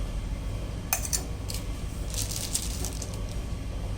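Two medium finely chopped onions dropped into a pressure cooker for coconut dal sambar, giving a few brief clinks and rattles against the metal, with a soft scattered shuffle over a steady low hum.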